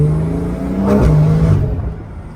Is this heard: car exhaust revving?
yes